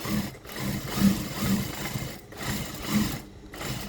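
A sewing machine runs in a steady, low mechanical hum while stitching a slanted side pocket on a pair of pants, with faint periodic thumps and short dips in the sound, close by.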